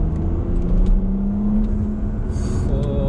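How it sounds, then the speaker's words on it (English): A tuned Porsche Panamera's engine revs and pulls steadily from inside the cabin, a continuous rumbling drone that rises slightly in pitch, with no talking. "The engine is a little bit more aggressive."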